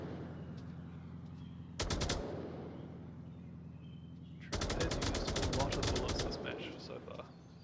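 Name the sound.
PK M249 machine gun firing in VR game Onward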